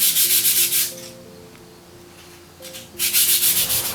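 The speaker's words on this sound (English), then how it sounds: "giving them a quick sand by hand to take out any marks and scuffs" Wooden windowsill trim pieces sanded by hand, heard as rhythmic back-and-forth rasping strokes, close and loud, in two bursts separated by a quieter pause.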